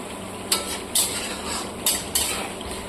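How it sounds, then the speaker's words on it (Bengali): Ground spice paste for a poppy-seed cauliflower roast is stir-fried in a pan, with four sharp spatula scrapes against the metal over a soft, continuous background sizzle. "এবার মশলাটাকে সুন্দর করে কষিয়ে নেব।"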